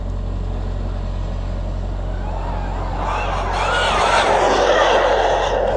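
An Arrma Felony 8S RC car speeds by. A low steady rumble swells about halfway through into a louder, rising electric whine with tire roar as the car accelerates hard and draws near.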